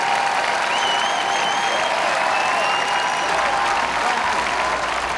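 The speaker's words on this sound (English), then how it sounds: "A massive cheer going up there." A massive Berlin crowd cheers and applauds after Barack Obama's 2008 speech. The roar is dense and sustained, holding at a steady high level the whole way through, with no single voice standing out.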